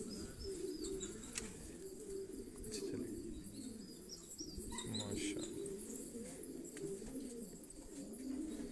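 Belgian racing pigeons in a loft in Quetta coo in repeated soft, rolling phrases close by, with faint chirps and the occasional flutter of wings throughout.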